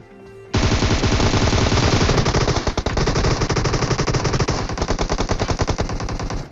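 Rapid automatic gunfire from Groza and AUG rifles in a mobile video game, a loud dense stream of shots starting abruptly and continuing with short gaps, close and dominant, no talking.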